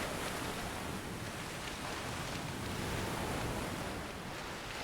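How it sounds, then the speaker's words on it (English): Continuous ocean waves in the game Shadow of the Colossus, a steady, loud, broadband wash of surf and wind that never pauses, with no talk. "I don't know if he's strong enough to swim against the waves here."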